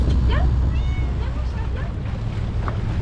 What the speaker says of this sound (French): Le chat il comprend pas.